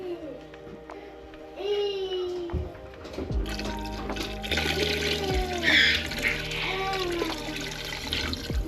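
Tap water runs into a stock pot being filled for homemade chicken stock, a steady pour rising in pitch as the pot fills, with a brief clatter partway through and no speech.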